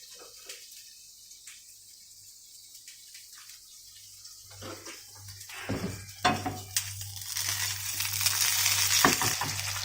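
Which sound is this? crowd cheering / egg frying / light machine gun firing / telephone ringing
egg frying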